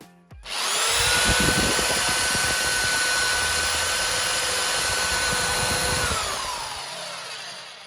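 A Parkside PBSD 900 A1 belt sander starts up and runs at a steady loud whine for about six seconds on timber, then winds down as it is switched off.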